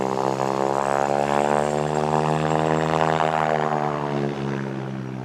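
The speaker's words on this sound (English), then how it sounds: "All clear for takeoff, Gary." A propeller airplane drones steadily and loudly as it powers up for takeoff, a constant engine hum with no voices, fading slightly near the end.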